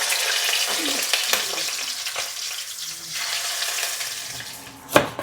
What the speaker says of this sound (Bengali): ইলিশ মাছ ভাজি হবে এখন